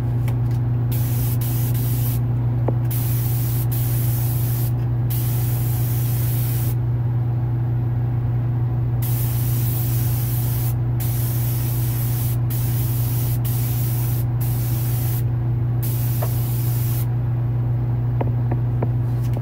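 A clear spray coat hisses steadily from a spray gun onto a Graven Labs SS part in long continuous bursts with brief pauses, loud and close over a constant low hum, with no voices.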